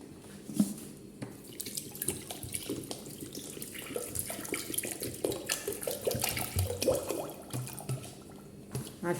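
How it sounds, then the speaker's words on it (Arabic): Half a litre of water is poured over a kilo of sugar in a pot. The close, uneven splashing and trickling runs for several seconds with irregular drips and clatters. "باش نحط عليه نص فيتر ماء"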